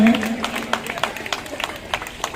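Audience applause at the Netaji Sporting Club puja pandal inauguration, a steady wash of clapping from a crowd with sharp individual claps standing out, lasting the whole moment while a low voice fades beneath it.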